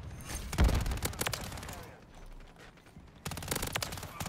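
Video game gunfire crackles in rapid automatic bursts, a loud cluster early on, a quieter lull, then another burst near the end.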